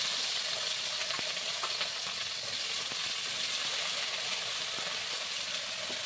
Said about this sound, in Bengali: এইগুলোকে এখন ভালো করে ফ্রাই করে নিই